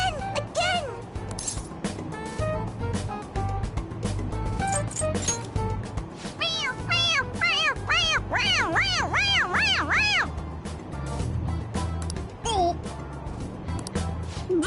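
A toy cat in Persona 5 Royal gives repeated short, high-pitched meows when its head is pressed, a quick series of squeaky cries over game background music.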